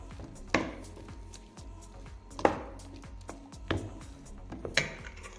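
A spoon or utensil mixes grated cheese in a bowl, striking the sides in four sharp, evenly spaced clinks over a soft stirring scrape, close up, with no talking.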